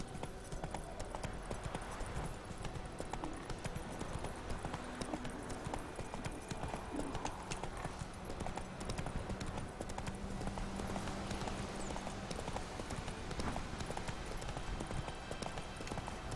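Hoofbeats of a horse galloping in The Witcher 3 video game, a rapid, continuous clip-clop rhythm at moderate level running throughout over ambient game sound, with no one talking.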